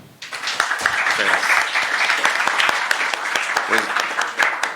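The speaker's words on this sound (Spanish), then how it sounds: "maestro Alejandro Avendaño Ábalos, para quien pido un fuerte aplauso." Loud, sustained applause from a crowd, dense clapping filling the room for several seconds.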